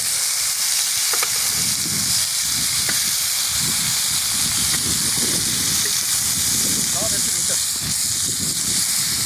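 About 2.5 kilos of meat sears in oil in a sac pan over an outdoor wood fire, giving a loud, constant sizzling hiss with faint crackles throughout.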